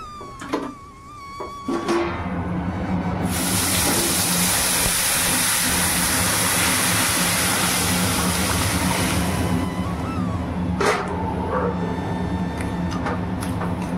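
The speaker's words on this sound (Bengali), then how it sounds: "হলুদ নুন তো আগেই দেওয়া ছিল, এবারে ফোড়ন দিয়ে দিচ্ছি।" A brief clatter, then a loud burst of hissing and sizzling as whole spices hit hot oil to temper dal, holding steady for several seconds before easing into quieter cooking noise.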